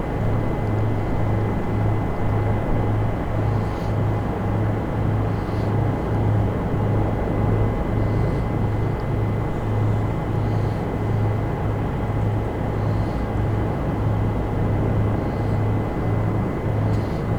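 A Bell 407 helicopter in the X-Plane 11 flight simulator sets down on tarmac, its steady rotor thrum and turbine whine droning on unchanged, with no voices.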